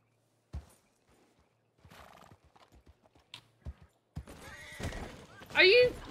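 Horse in the Western game RedM, with hooves clip-clopping at intervals, then a loud, close neigh and whinny near the end, mixed with talking voices.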